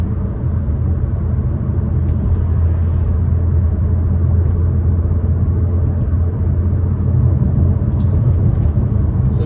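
A 2014 Peugeot RCZ cruising slowly at about 40, its engine a steady, close low drone with constant road rumble throughout, no voices.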